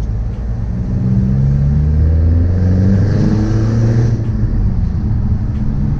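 A BMW E90 with a custom bumper and modified exhaust revs its engine, a loud, close rumbling drone that swells and climbs in pitch, then holds steady, with no voices.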